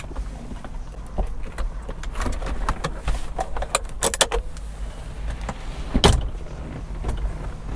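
Manual soft top of a 2004 Toyota MR2 Spyder being unclipped and folded down by hand, with a string of close clicks, rustles and handling knocks and a sharp louder clack near the end, no talk.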